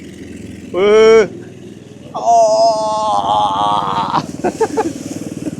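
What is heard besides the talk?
mini army jeep driving up an incline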